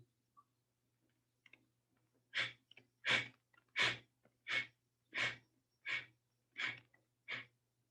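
Slow, soft breaths during a beginner yoga breathing exercise, eight even airy inhale-exhale pulses spaced about a second apart, close and quiet over a faint low hum, no talking.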